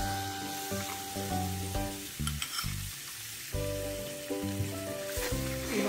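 Flour cooks in melted fat in a pan over low heat, making a soft, crackling sizzle with bursts of stirring, heard over background music.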